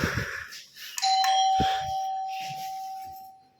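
A doorbell chimes once with a bright sustained tone that rings out and slowly fades, preceded by some faint clicks and handling noise.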